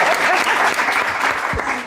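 An audience applauding at a live event, a dense, sustained wash of many hands clapping close and loud throughout, with a faint voice underneath.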